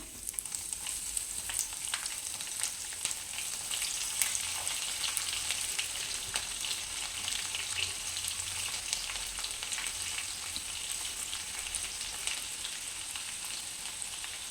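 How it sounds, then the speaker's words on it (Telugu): Chopped onion fries for upma in a pan, giving an even, moderately quiet sizzle with light crackles throughout and no voices. "ఇవన్నీ బాగా ఫ్రై అయినాక ఇప్పుడు ఇందులోకి మనం కట్ చేసి పెట్టుకున్న ఆనియన్ వేసుకుందాం"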